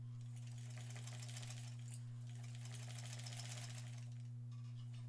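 A sewing machine stitching a tote bag, a steady mechanical whir with rapid needle clatter, quiet and close over a constant electrical hum.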